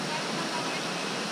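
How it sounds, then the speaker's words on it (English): Steady broadband rush of a waterfall in the Bali jungle, loud and continuous with no breaks. "Going to see some more waterfalls in Bali."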